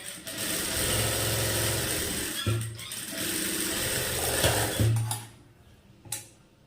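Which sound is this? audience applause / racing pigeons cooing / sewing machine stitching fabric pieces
sewing machine stitching fabric pieces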